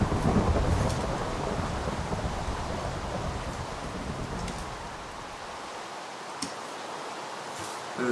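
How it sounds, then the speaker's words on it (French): Rain and thunder in Minecraft, a dense rushing downpour with a low rumbling roll that fades gradually toward the end, no talking. "J'attends que la pluie passe, ça fait du bruit."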